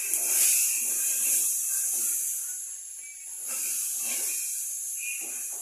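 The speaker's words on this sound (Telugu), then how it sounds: "నేనైతే టమాటా, మునక్కాయ, బీనీస్ ఫ్రై చేస్తున్నా ఫ్రెండ్స్" Tomato, drumstick and beans frying in hot oil give a steady, fairly loud sizzling hiss that swells and eases slightly throughout, with no voices.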